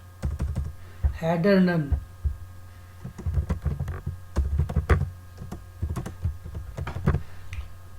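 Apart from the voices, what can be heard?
typing on a computer keyboard while editing code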